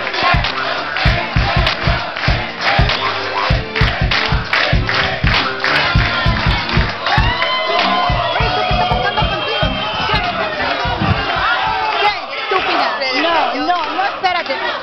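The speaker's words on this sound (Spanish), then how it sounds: "un aplauso para Vicky" Lively talk-show studio audience in a Spanish-language confrontation show greets a guest with a steady wash of cheering, whoops and clapping, loud and close, with shouted voices and crowd babble running throughout.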